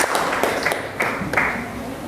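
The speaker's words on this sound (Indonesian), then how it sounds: "Tepuk tangan." A group clapping hands in a classroom lesson, a few uneven bursts of claps spread over two seconds, fairly close, with a voice talking faintly under them.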